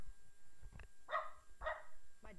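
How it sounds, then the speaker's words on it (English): A dog barking indoors in the background: three or four faint, short yapping barks spaced irregularly over quiet room tone. "my dog finally stopped barking"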